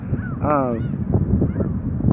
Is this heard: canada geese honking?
yes